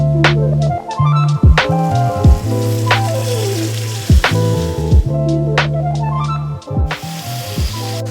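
Ribeye steaks sear in hot oil in a skillet, with a crackling sizzle close up under repeated pitched tones and clatter that rise and fall in bursts.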